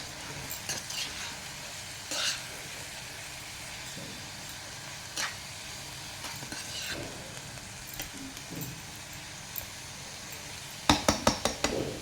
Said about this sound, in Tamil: நான் எப்படி நல்லா கலக்கி விடுறேன் பாருங்கள்